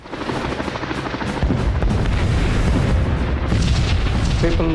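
Heavy thudding and rumbling blasts continue without pause, a helicopter-like drone mixed into the loud, chaotic barrage as helicopters drop barrels of explosives.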